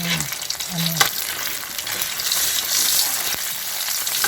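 Corned beef torta frying in a pan, giving a steady close sizzle with a few brief scrapes and clatters near the start, with no talking.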